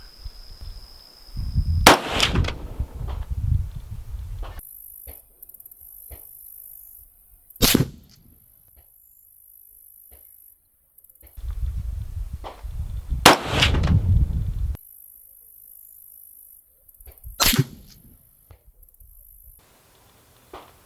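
A rifle fires at a paper target on a range, four sharp shots spaced several seconds apart, each a loud close crack with a brief tail, separated by quiet stretches and handling noise.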